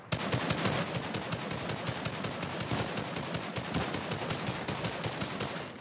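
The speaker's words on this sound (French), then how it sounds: "Là où je tire." Rapid automatic gunfire from a shooter in the video game The Division 2, dense repeated bursts of shots running continuously throughout, loud and close with no speech.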